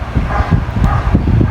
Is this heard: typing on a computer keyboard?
no